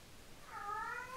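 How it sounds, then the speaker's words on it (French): A hungry house cat gives a single drawn-out meow, faint and alone against a quiet room. "J'ai mon chat qui m'embête encore."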